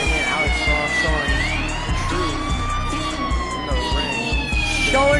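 An ambulance siren wails continuously as the vehicle pulls away from a wrestling arena, its rising and falling tone loud throughout over a crowd's murmur and a commentator's voice.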